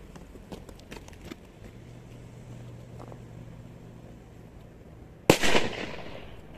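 A Viper 1 Black 50 mg firecracker goes off with a single sharp, loud bang and a short crackling decay, following several seconds of quiet outdoor background.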